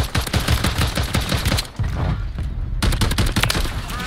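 Gunfire in the Call of Duty video game, with loud, rapid bursts of automatic shots that run almost continuously, briefly thin out for a moment, then resume at full intensity.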